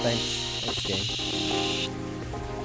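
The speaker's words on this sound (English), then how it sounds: "It's pouring rain again. I liked how they turned up the rain sound just for effect." Pouring rain from a game's soundscape hisses steadily, loud and wide, then drops away abruptly near the end, with a person talking briefly over it.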